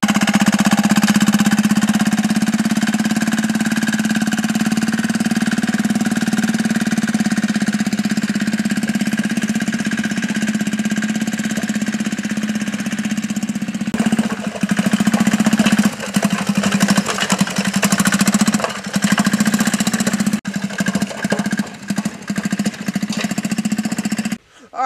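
Small diesel engine on a homemade go-kart wagon runs loudly and steadily throughout, a constant droning hum that turns choppy and uneven with bumps and rattles in the last ten seconds as it is worked harder.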